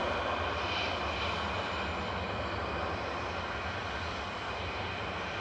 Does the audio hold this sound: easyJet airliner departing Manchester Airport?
yes